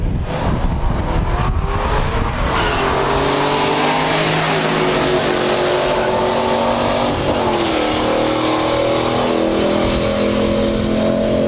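A 1970 Ford Torino Super Cobra Jet and a 1969 Oldsmobile Cutlass W31 drag race, loud roaring engines revving and accelerating hard, a sustained rising drone with no talking.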